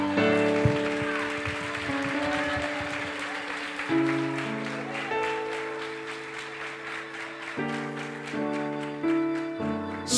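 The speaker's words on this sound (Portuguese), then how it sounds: "Aplauda Ele." Applause from a women's conference audience at a church gathering, steady clapping under sustained keyboard chords, loud and continuous throughout.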